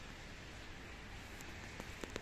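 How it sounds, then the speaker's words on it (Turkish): Steady rain falls on a balcony on a rainy day in Gaziantep, a continuous even hiss with a few sharper drop ticks near the end and no voices. "Yağmurlu bir Antep gününden herkese selam."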